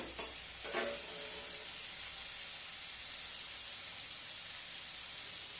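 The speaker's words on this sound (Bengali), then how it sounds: "এবার একটা ফ্রাইং প্যান বসিয়ে দিয়েছি। ফ্রাইং প্যানের মধ্যে কিছুটা বাটার দিয়ে দিলাম।" Butter sizzles in a frying pan, a steady soft hiss filling the whole stretch with a couple of brief clatters near the start; no one speaks.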